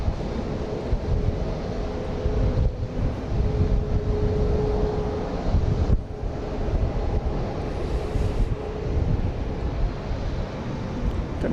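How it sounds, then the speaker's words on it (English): A Learjet 60 arriving at Dallas Love Field gives off a steady, distant jet roar that swells slightly, mixed with wind buffeting the microphone. "Another Learjet coming in. This is a Learjet 60 from Dreamline Aviation coming in from Hayward, California"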